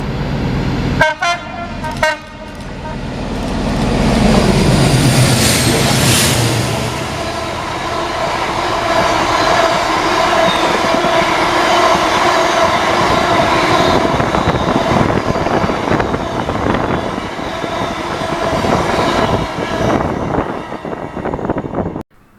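A heavy freight train double-headed by two Class 56 diesel locomotives passes at Greenfalls in Scotland, opening with horn toots, then a loud, sustained roar of engines and rumbling wagons that slowly fades toward the end.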